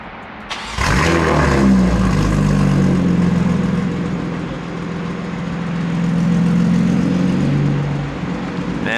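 A BMW F30 car starts up, and its engine settles into a loud, steady drone as it drives on the road, rising and falling slightly in pitch as the car moves along.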